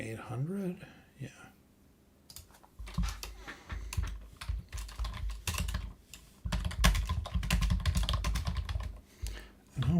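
Computer keyboard typed on close to the microphone, loud clicking keystrokes in rapid irregular bursts with brief pauses, preceded by a short stretch of speech at the start.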